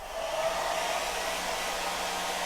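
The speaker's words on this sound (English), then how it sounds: "So I'm gonna go over with the blow dryer again." A hair dryer blows continuously at close range, a steady airy whoosh with a faint motor whine and no pauses.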